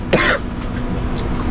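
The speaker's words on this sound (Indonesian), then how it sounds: "Batuk." A single short, sharp cough from a man at a breakfast spot serving roti canai in Bukit Bintang, Kuala Lumpur, up close and followed by quiet room background.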